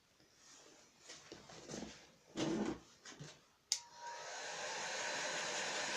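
A heat gun warms motorcycle engine crankcases with a faint rushing blow at first, then a few louder bursts and a sharp click, before a steady, brighter airflow hiss settles in and continues to the end.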